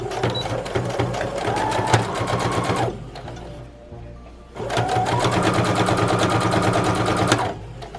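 A sewing machine stitches a reusable fabric face mask in two steady, rapid bursts of close, loud needle clatter, separated by a short pause of near silence.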